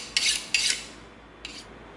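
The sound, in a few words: sharpening a box cutter blade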